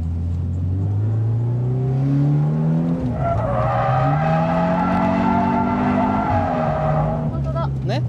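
A driver's Toyota 86 drifts with the handbrake pulled, its engine revving loudly and rising as the tires squeal through a long skid, while people talk throughout.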